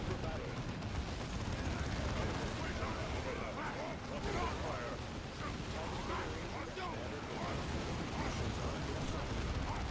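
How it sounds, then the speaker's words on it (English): A grenade explosion in Warhammer Dawn of War 2 sits within dense, continuous battle noise, rumbling booms and gunfire mixed together, with voices underneath. "grenade."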